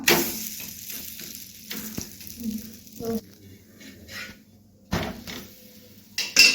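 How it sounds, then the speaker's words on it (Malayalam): An egg dosa on a hot pan is turned over, giving a steady frying sizzle with scraping spatula strokes and a few bumps and clatters near the start and end, close and moderately loud. "ഇനി നമുക്ക് തിരിച്ചിട്ട് കൊടുക്കാം"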